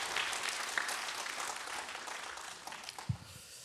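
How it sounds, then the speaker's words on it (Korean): Church members at a Friday prayer meeting clap in encouragement for the children's department teachers and kids, a sustained, even crowd of applause with a louder burst near the end. "다시 한 번 더 우리 소년부 담당 교육자, 부장, 교사분들과 또 우리 친구들에게 격려의 박수로 박수하겠습니다."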